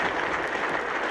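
Cricket crowd at a Test match applauding a 400-run partnership, a steady, distant-sounding ripple of clapping spread across the ground, brief and even, with no commentary over it.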